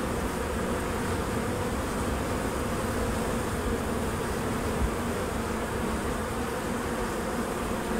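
Honey bees from a package being shaken and dumped into a hive, giving a dense, loud, continuous buzzing swarm drone that holds steady throughout with no talk.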